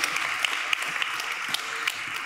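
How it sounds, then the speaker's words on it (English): A conference crowd claps for a speaker after an investor pitch session, a thin, even patter of applause at fairly low level with scattered sharper individual claps, lasting the whole stretch. "give a big applause to Henri"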